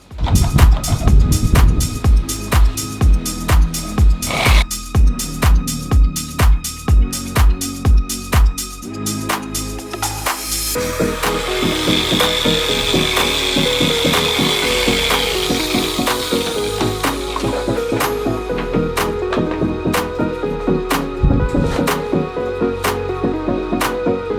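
A machine polisher with a CarPro gloss pad works the paint of a 48-year-old Triumph Stag, first pulsing in a steady rhythmic throb, then running as a continuous whirring hum, loud and close with no talk.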